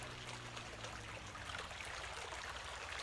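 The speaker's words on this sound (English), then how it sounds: "Got some nice water sounds there." Steady flowing water at a water gate on a farm map in Farming Simulator 17, a continuous trickling stream at even loudness with no pauses, heard alone.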